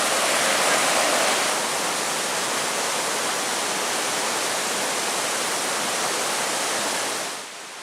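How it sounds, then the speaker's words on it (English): Overlook Falls and the stream rapids below it in Michigan's Porcupine Mountains roar as a steady, full rush of falling water. The sound stays loud and unbroken, then eases slightly near the end. "And this should be Overlook Falls. And then it comes down the stream. You get some nice rapids with some smaller falls."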